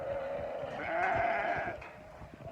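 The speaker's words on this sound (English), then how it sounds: "I'm kind of hoping the sheep are going to come on their own" Sheep on a farm during lambing season bleat in one loud, drawn-out call close by, over a low rumble of background noise.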